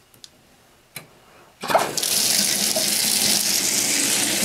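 Apartment shower turned on: a couple of faint clicks, then a sudden rush of water that settles into a loud, steady hiss of spray running continuously, with no talking.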